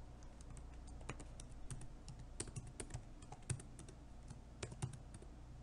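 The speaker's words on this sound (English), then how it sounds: "I was typing some of the letters and I was pressing the tab so that it will auto complete" Keys on a computer keyboard are typed in quiet, irregular clicks with occasional firmer taps like a tab key press, close and soft with no talking.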